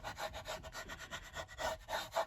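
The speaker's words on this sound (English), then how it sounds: "let's just burnish this down" A handheld burnishing tool rubs paper down onto a junk journal page in quick back-and-forth strokes, a close, dry scraping that rises and falls about nine times without any voice.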